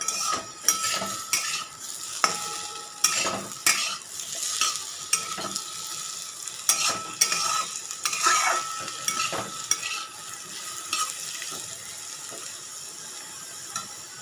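Fried potatoes sizzle in a pan while a utensil scrapes and stirs them in repeated irregular strokes, the metallic scraping loud and close over a constant hiss of frying.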